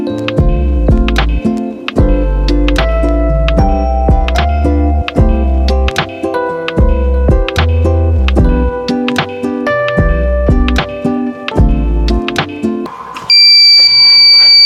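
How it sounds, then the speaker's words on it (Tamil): Tonal beeping from a water-divining antenna device used to find groundwater for a borewell: a fast run of repeated pulsed beeps that turns into one continuous long beep near the end. "இங்க பாருங்க, லாங் பீப் சவுண்ட் வருதுங்க."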